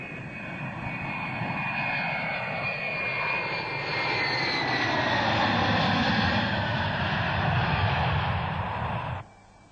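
A loud airplane engine drones steadily with a roaring, shifting tone that builds slightly, then cuts off abruptly near the end.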